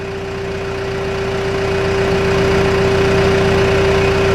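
A John Deere 310G backhoe's engine idles steadily at minimum speed, around 900 RPM, with a sustained low hum and a strong constant tone that swells slightly louder over the few seconds, with no talking.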